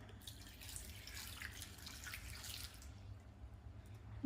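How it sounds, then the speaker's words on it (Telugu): Water splashes and trickles into a pressure cooker holding carrot and onion pieces, a faint, steady pouring sound that tapers off before a brief knock at the end. "ఇందులో కొద్దిగా వాటర్ వేసుకోవాలి."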